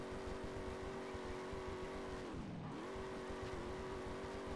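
A car drifts in the racing game Drift Paradise, its engine holding a steady droning tone that dips sharply and recovers midway as the revs drop and climb again, with no talking.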